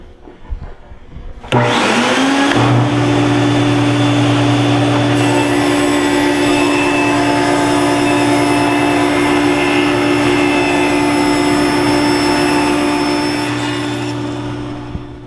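Power saw cutting plywood box fronts and backs, starting abruptly and then holding a loud steady whine with a low hum beneath and a faint higher tone, running close by without a break until it fades slightly at the end.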